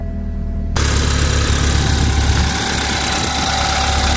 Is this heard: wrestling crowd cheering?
no